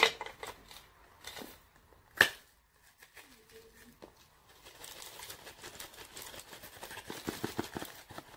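Scissors poke and snip at plastic packaging, giving scattered sharp clicks and crinkling cuts up close, with a brief rasping scrape partway through and denser crackling handling toward the end.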